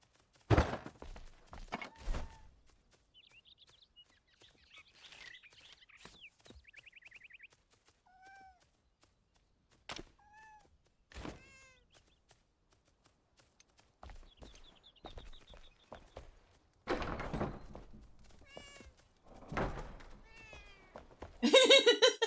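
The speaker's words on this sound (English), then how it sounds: "I opened the door, the cat goes, meow. I close the door, he goes, meow." A house cat meows several times at a door, the meows coming in separate bursts between quieter stretches, with some clatter and rustling around them.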